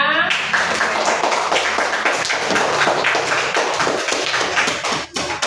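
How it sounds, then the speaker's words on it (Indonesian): Students in a primary classroom clap for everyone at the end of a Ramadan lesson, a dense burst of quick sharp claps that continues steadily for several seconds with some light voices under it. "Tepuk tangan untuk semuanya"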